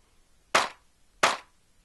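Two hits of a clap sample triggered in the Beatmaker 2 drum machine app, sharp noisy snaps roughly 0.7 seconds apart with short decays over near silence.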